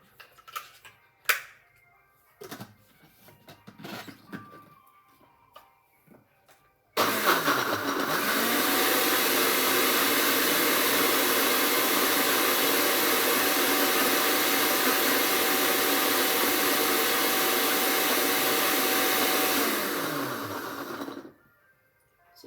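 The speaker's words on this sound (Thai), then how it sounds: "เสร็จแล้วเราก็ปั่นก่อนนะครับ ปั่นให้มันเข้ากันก่อนนะครับ" A kitchen blender whirs steadily for about fourteen seconds while mixing a seafood dipping sauce, a loud continuous motor drone that starts abruptly and winds down at the end, preceded by some clinks and handling noises.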